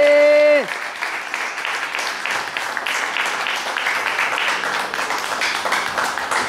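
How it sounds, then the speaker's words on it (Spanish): A church congregation breaks into loud, sustained applause, a dense wash of many hands clapping that fills the room for several seconds after a brief tone fades. "Un aplauso a Jesús, hermano"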